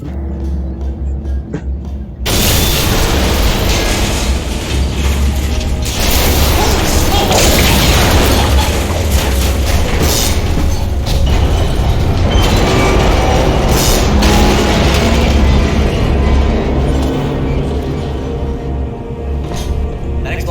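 A massive explosion in the video game Portal 2 tears apart a toxic goo pump station, erupting suddenly into a loud, sustained roar of rumbling debris and crashing that fills the scene after a quieter opening.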